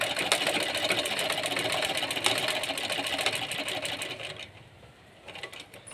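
A sewing machine stitches a straight seam in fabric, a rapid even mechanical clatter close to the microphone for several seconds before slowing and briefly stopping, then a few more stitches.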